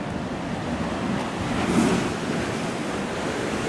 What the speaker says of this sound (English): The water gushes up there.